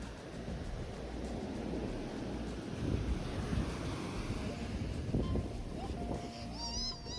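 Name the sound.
ocean waves at Ocean Beach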